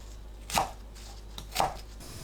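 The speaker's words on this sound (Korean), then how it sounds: "양파를 한입 크기로 큼직하게 썰어줍니다" A knife cuts onion into large bite-sized chunks on a board, two distinct close, crisp chops about a second apart with quiet pauses between.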